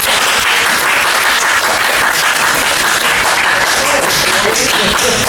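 Sustained, loud applause from an open mic night audience, a dense wash of many hands clapping continuously without a break.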